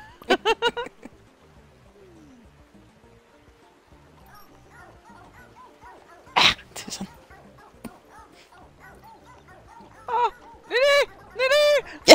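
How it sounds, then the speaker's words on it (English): A video-game dog barks and whimpers in short bursts, with yips early, a sharp bark midway and a run of loud barks toward the end, separated by quieter game sounds. "Bad dog! Drop!"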